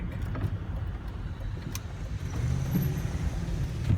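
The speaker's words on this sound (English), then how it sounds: "This is the BMW X5. Let's have a listen as we're driving down the road." A BMW X5 4.4 V8 drives down the road, heard from inside as a steady low engine and road rumble that swells slightly midway, with no talking.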